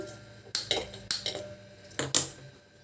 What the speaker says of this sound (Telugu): గిన్నె పెట్టుకొని స్టవ్ వెలిగించానండి